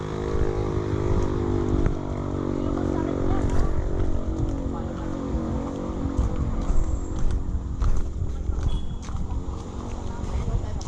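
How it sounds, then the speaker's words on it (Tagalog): A motorcycle engine on a steep uphill road near Kilangin/Bukal falls in Liliw, Laguna gives a continuous loud rattling drone, with voices talking over it. "Pati yung motor kumakaratrat."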